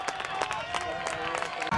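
Spectators clap and cheer at the finish of the men's long cross-country race at the 2012 Italian championships in Correggio. The applause comes in bursts, with a voice faintly audible underneath.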